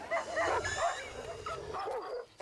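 A dog whimpering and yelping in pain after a spitting snake sprays venom into its eyes, with repeated high yips and whines close by.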